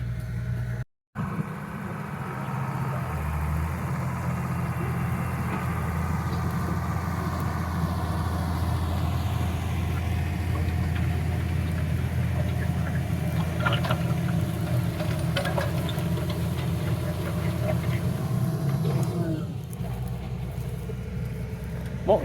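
A tractor pulls a chisel plow through field soil for decompaction, a steady low engine drone with a shifting mechanical rumble that continues for most of the time and eases off near the end.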